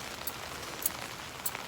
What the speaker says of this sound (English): it's supposed to rain like this